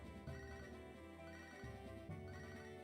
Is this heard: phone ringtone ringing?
yes